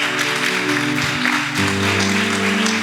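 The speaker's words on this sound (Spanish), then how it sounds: "¿Puede darle un aplauso al Señor y ponerse sobre sus pies?" Church congregation applauding during a Spanish-language sermon, a steady broad clatter of many hands over a sustained organ or keyboard chord, continuous and fairly close for a few seconds.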